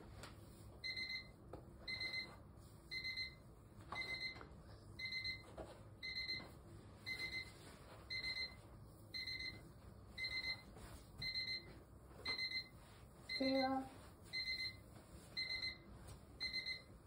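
An alarm clock in a day spa treatment room beeps in regular repeating bursts, moderately close and otherwise alone.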